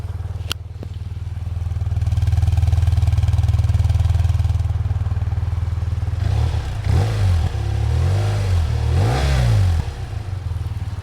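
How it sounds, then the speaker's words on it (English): A BMW R12 NineT boxer-twin motorcycle fires up with a sharp start, settles into a steady idle, then blips through several rising and falling revs near the listener. "you feel the pistons from side to side as you fire it up"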